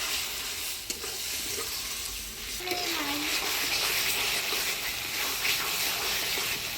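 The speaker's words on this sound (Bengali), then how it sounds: "এবারে জল দিয়ে মশলাটা ভালো করে কষিয়ে নেব" Ground spice paste of coriander, cumin, ginger, chili, turmeric and salt sizzles and hisses in a pan as water is added, with stirring scrapes over a steady, close frying hiss.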